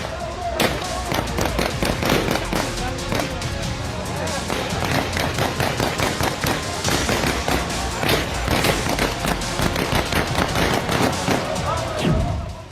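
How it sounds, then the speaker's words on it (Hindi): Heavy gunfire erupts at Kabul airport: dense, rapid bursts of shots and cracks fire continuously and loudly throughout, mixed with crowd noise and shouting voices. "वहां ताबड़तोड़ गोलीबारी से अफरा तफरी मच गई।"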